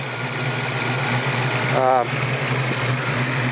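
A 1986 Ford Mustang GT convertible's V8 idling steadily with a low, even rumble, close by, while someone talks over it.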